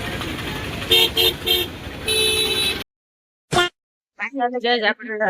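Heavy road traffic near a small fair at Ranavav: repeated short car horn toots and a longer honk over a dense engine roar, then a sudden drop to quiet and close voices talking.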